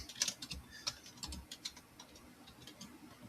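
Light, irregular clicking of keys on a keyboard, quiet and close, with bursts of quick taps and brief pauses.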